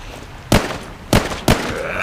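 Gunshots in The Walking Zombie 2 video game, three sharp, loud cracks spaced unevenly over a low game backdrop.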